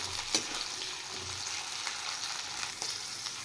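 Ginger and green chillies fry in a pan for a paneer dish, giving a quiet, even hiss with a few soft stirring clicks, without speech.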